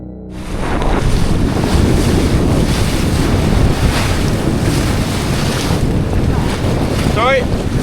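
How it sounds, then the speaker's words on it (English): A sailboat cuts through open sea at about six knots on a windy day off Britain, with continuous rushing water, surf wash and heavy wind buffeting the microphone throughout. "We're doing 6 knots through the water consistently."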